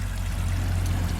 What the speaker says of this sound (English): I would have put this stream in.